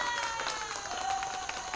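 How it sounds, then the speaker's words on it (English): Applause from an audience at a talk, a steady wash of many hands clapping with some crowd noise mixed in, moderately loud and continuous throughout. "That deserved an applause."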